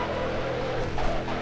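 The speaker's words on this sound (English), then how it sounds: "They just have a speaker playing V8 noises underneath the car." A simulated V8 engine from a car in the racing video game Midnight Club 3 holds a steady, moderately quiet drone with slight swells. No one speaks.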